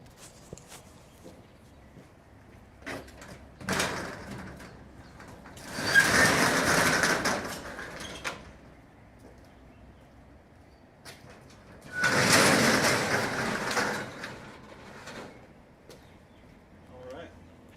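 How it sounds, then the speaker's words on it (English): The metal double doors of a 20-foot-wide storage unit are hauled open, giving two loud, rattling bursts about two seconds long each, with quieter clanks and knocks in between. "We're about to open the doors on this."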